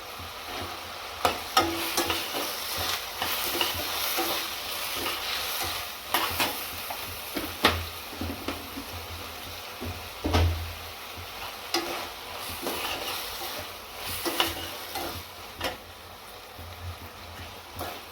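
Tomatoes fry in a pan for a fenugreek leaf and broad bean curry, making a soft, continuous sizzle broken by repeated sharp spatula taps and scrapes. No voice is present.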